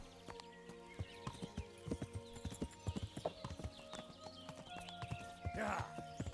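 Horse hooves clip-clop steadily in the video game Kingdom Come Deliverance, a repeated rhythmic trot with a brief whinny near the end, heard alongside a speaking voice.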